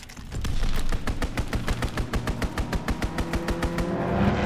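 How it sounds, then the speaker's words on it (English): Fighter aircraft strafing run in Call of Duty WWII: a rapid burst of heavy automatic gunfire, evenly spaced loud shots rattling for several seconds over a rumbling engine drone that swells toward the end. "Fighter pilot inbound, strafing the target."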